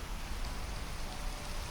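Steady rain in a Minecraft world, a dense even hiss of falling drops that stays constant and close throughout with no other sounds.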